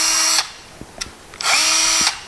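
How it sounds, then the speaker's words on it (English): A Milwaukee M12 right angle drill runs flat out in two high-pitched whining bursts, separated by a brief gap with small clicks, loud and close. "That's the drill."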